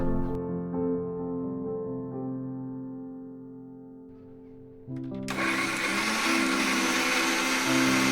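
A kitchen blender grinding spice paste with water starts with a steady motor hum whose pitch sags under load, then jumps into a loud harsh whirring grind close up, with no talk.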